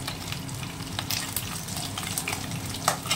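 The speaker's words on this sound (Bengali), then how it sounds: "মাছ ভাজার জন্য কড়াতে সর্ষের তেল দিয়ে দিয়েছি, আর মাছটা ভেজে নেব।" Small fish fry in mustard oil in a wok, a dense steady sizzle with scattered pops and crackles, heard up close with no speech.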